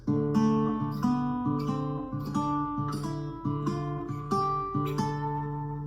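Guitar picking single notes in the D Dorian mode, each note ringing into the next at an even, moderate pace.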